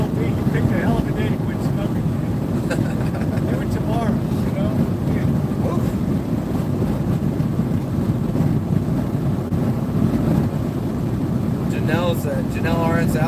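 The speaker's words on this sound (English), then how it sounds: "That wind is, as you guys can see, is kind of like whipping us around." Strong wind buffets a van driving through Wyoming, a steady heavy roar and rumble that never lets up for the whole stretch, with faint voices surfacing near the end.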